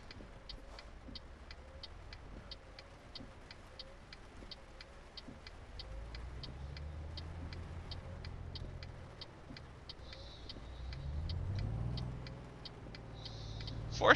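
In Euro Truck Simulator 2, vehicles roll past in traffic with low engine rumbles swelling and fading twice, alongside a steady rhythmic ticking like a turn signal, all fairly faint.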